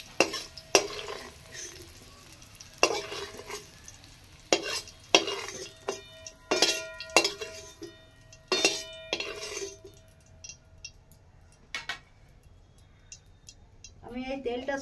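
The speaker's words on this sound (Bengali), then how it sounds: "বিনসগুলো তুলে দিচ্ছি আমি" Fried beans scooped out of a pan of hot oil, with a string of sharp metal spatula scrapes and clinks against the pan over a faint sizzle, irregular and close, before it quiets down.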